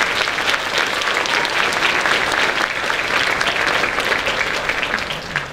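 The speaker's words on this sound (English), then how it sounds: "Can you give them a round of applause, please?" Loud, dense applause from the audience at an elementary school holiday concert, a crowd clapping steadily and close for the whole stretch, with no speech over it.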